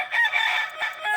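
A gamefowl rooster gives one short, loud crow close by, heard alone and cut off after about a second.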